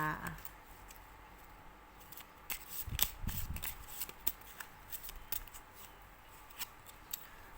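Tarot cards shuffled by hand during a zodiac reading, giving soft papery riffles and rustles that build into a denser flurry midway before settling into lighter scattered flicks, quiet and close with no talking.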